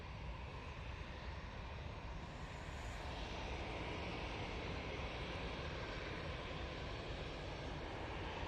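A Ryanair airliner arriving from Riga at Manchester Airport produces a steady, broad engine roar that holds at an even level throughout, with no voices.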